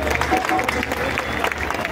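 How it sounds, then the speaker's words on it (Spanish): Crowd at a live Latin folk music show applauds the band, a steady patter of clapping mixed with crowd noise and a low hum, with talk faintly underneath. "Un aplauso, por favor."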